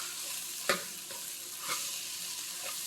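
Ground chana dal fries in a pan for vadacurry, giving a soft, steady sizzle with a few faint scrapes and stirring knocks near the start and later.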